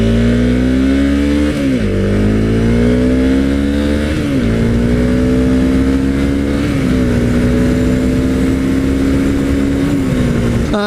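Supermoto or dual sport motorcycle revving steadily and loudly up close while turning around on a driveway, engine pitch rising and dipping in repeated throttle blips over a constant drone.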